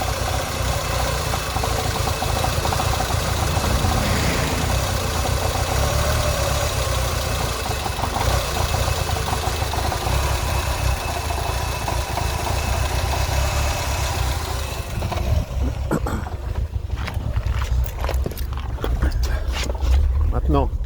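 A Ford Fiesta MK4 petrol engine with an unstable, hunting idle from a throttle body sensor fault runs steadily and close for most of the clip, its hum rising and falling, with louder clattering toward the end.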